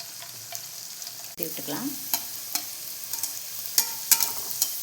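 Sweet pooris deep-frying in oil, a steady close sizzle with scattered bubbling pops and occasional scraping stirs; a person speaks briefly.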